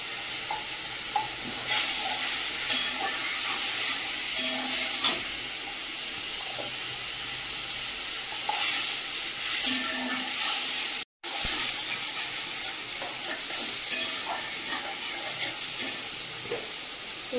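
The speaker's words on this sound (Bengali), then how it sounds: "সুন্দর করে মশলাটা ভেজে নিচ্ছি।" Ground cumin and red chili powder fry in a pan with a continuous hissing sizzle, overlaid by repeated spatula scrapes and stirring clatter, with a brief cut to silence partway through.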